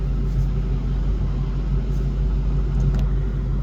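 A 2013 Ford Mustang GT with a 6R80 automatic and cold air intake sits stopped, its engine idling in a steady, close low rumble with no speech.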